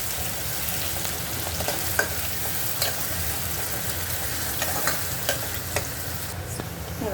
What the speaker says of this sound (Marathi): आता मी त्याच्यात टाकते टॅमॅटो तर टोमॅटो चांगला तेलामध्ये मारून घ्यायचं